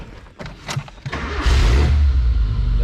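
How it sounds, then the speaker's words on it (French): A small Suzuki Vitara engine cranks with a few clunks, catches and settles into a loud, close, deep idle, the exhaust running straight out after the catalytic converter. "ce petit Vitara là, il fait un bon petit bruit aussi celui-là"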